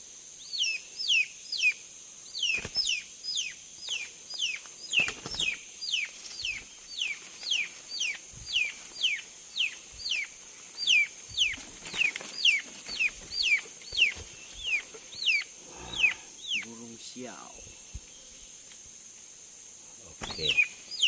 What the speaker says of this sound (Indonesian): Ini ayam siul namanya.